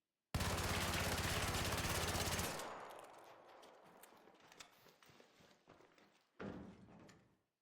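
Bobcat gun fitted with a muzzle brake 2 fires a long rapid automatic spray in the game ARC Raiders, a dense loud burst of about two seconds, then scattered clicks and rattles and a short second blast near the end.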